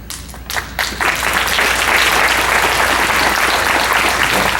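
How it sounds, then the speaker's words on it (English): Applause from a gala audience for a fundraising committee chair, beginning with a few scattered claps then swelling within a second into loud, steady clapping from a large crowd. "we give you a nice round of applause"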